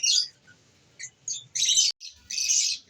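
A pair of green Fischer's lovebirds gives sharp, high chirps and squawky calls in short separate bursts, close and fairly loud, with quiet gaps between them.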